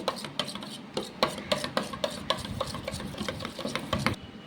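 A spoon stirs salt, black salt and chaat masala into yogurt in a bowl, a close rhythmic scraping and tapping with regular strokes that stop just before the end.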